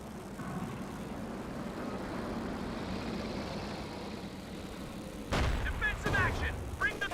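A siege artillery barrage in Company of Heroes 2 rumbles as a low, sustained roar of distant shelling, followed by a sharper, louder burst of impacts near the end, with a commentator talking over it.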